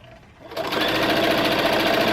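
A sewing machine stitches a die cutter dust cover, starting after a short pause and then running at a steady, fast, even whir close by, with no speech.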